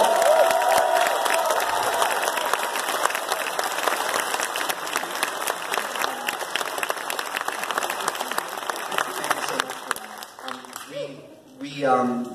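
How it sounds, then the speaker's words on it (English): A Q&A audience gives a round of applause for the television series Watchmen, a loud, dense roar of clapping with some cheering that slowly thins over about ten seconds before a voice speaks at the end. "Can we have a round of applause for Watchmen?"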